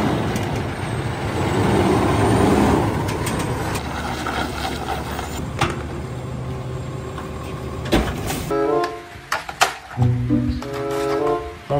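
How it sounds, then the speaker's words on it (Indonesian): A garbage truck engine rumbles loudly for several seconds, with a hiss like air brakes, before fading as a cheerful musical tune takes over. "mobil truk sampah."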